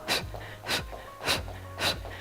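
Heavy, rapid breathing during a home leg workout: four sharp, forceful breaths at an even rhythm about every half second, close and clear, with no talking.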